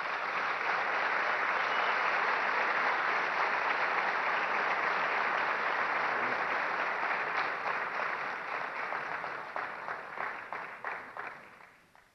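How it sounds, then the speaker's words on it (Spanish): An audience at a Guatemalan business council presidential debate applauds the candidates, a dense sustained roar of clapping that thins into scattered claps and fades out at the end. "les ruego un fuerte aplauso para ellos"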